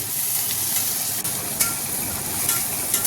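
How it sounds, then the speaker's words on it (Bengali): Onions frying in a pan with salt while being stirred, a continuous sizzle with light scraping and clinks of the spatula, no talking. "পেঁয়াজের মধ্যে একটু লবণ দিলাম, লবণ দিয়ে নেড়ে দিচ্ছি।"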